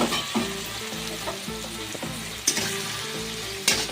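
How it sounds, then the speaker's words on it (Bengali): Punka greens with green chilli paste and a splash of water cook over a high gas flame, frying with a steady sizzle as a spatula stirs them, giving a few sharp scraping clacks against the pan. "নাড়াচাড়া করে নিচ্ছি"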